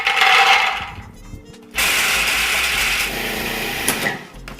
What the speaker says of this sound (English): I'm going to put them into my food processor